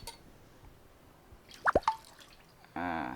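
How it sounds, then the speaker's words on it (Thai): Yanang leaf juice and soaked rice go into a pot of Lao-style bamboo shoot soup: a few quick, close drips and plops, then a louder sustained splashing pour at the end, with no talking. "ผสมกับน้ำยานางและถอกใส่เลย"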